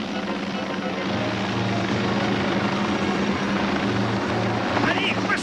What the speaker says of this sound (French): les hélicoptères arrivent, regarde!